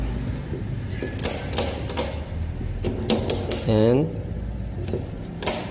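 A ratchet belt cargo strap being tightened, sharp repeated mechanical clicks spaced irregularly, with a brief whirring pull of the strap, as a person talks nearby.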